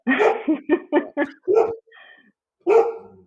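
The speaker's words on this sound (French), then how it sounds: "on entend peut-être, Sophia, ma chienne, qui a décidé de se manifester" A dog barks in a quick series of sharp, loud, close barks, then a faint whine and one more bark after a brief pause.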